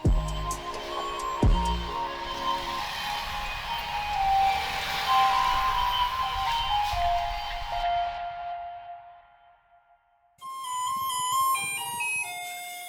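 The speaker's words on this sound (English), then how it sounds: "For those in Taiwan, you'd recognize that as a remix of the Garbage Truck song." Theme tune remixing Taiwan's garbage truck melody, a bright electronic jingle with steady sustained notes and a brief low thump near the start, fading into near silence before a new melodic passage resumes, with no talking.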